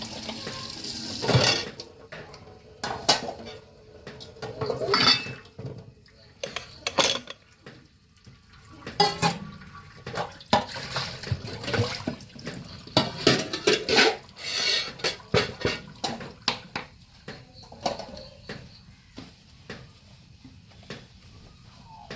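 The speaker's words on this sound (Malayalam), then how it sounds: "അപ്പോൾ നമുക്ക് വേഗത്തിൽ പാത്രങ്ങളൊക്കെ കഴുകിയെടുക്കാം." Dishes, pots and pans being washed at a kitchen sink while preparing a simple Kerala home lunch: repeated clinks and clatters of cutlery and utensils with running tap water, irregular knocks throughout, no talk.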